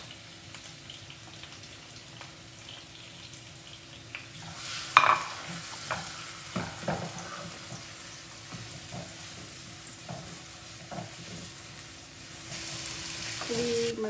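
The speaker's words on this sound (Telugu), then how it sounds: "First onions వేసేస్తున్నాము." Onions frying in a pan, a steady low sizzle with scattered clinks and scraping stirs, alone without talk.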